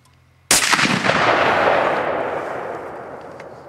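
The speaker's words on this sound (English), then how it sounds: "the only thing you will hear is the sonic boom" A suppressed .50 caliber rifle firing a high-velocity round gives a single loud, sharp crack from the sonic boom, followed by a long rolling decay that fades over a few seconds, with no other sounds.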